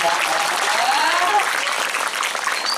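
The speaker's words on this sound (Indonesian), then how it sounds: "tepuk tangan dulu untuk penabuh" A crowd at a Balinese Calonarang performance at Pura Dalem Mas in Ubud, Gianyar applauds the gamelan players with dense, continuous clapping that stays loud for the whole stretch, one or two voices briefly rising over it.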